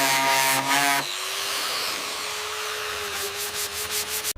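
Body filler is sanded smooth on a homemade Lamborghini body panel, producing close, continuous rubbing and scraping that grows choppier toward the end.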